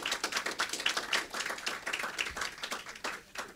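A consultation meeting audience applauds a contributor, a modest crowd clapping in a quick, slightly uneven patter of distinct hand strikes that rises and dips across the stretch.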